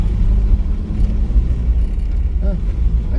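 A 1978 Datsun B210 runs and drives, its engine a low steady rumble close by with some road and cabin noise, rising and dipping slightly in loudness as it moves.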